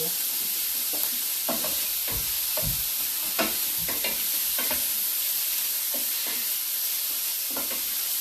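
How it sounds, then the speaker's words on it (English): Shrimp cooks in a pan over low heat, a constant close sizzle with repeated soft scraping and stirring knocks scattered throughout, no talking. "Make sure your fire is on low heat because you really want your shrimp to cook well."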